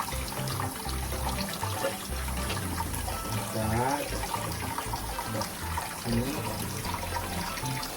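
Tap water runs steadily over mung bean sprouts being washed in a kitchen sink, a continuous splashing wash with brief speech over it.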